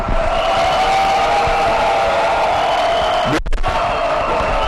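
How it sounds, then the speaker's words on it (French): Members of a national assembly applaud as its youngest deputies rise, sustained crowd clapping in a large chamber with a diffuse wash of hands, briefly broken by a sharp thud near the end. "Je leur demande de s'élever pour être applaudis par l'auguste assemblée."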